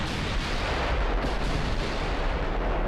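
Naval warfare game battle with ship guns booming and torpedoes launching, a dense, continuous roar of heavy artillery-like fire and explosions filling the whole stretch, loud and unbroken.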